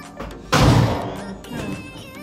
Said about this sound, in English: I'm gonna put my pan on fire.